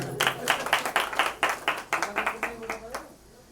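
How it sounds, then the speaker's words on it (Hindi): Audience at a spiritual discourse clapping for themselves, a short run of distinct, fairly close hand claps in a loose rhythm that stop after about three seconds. "तो अपने लिए ताली बजा दो।"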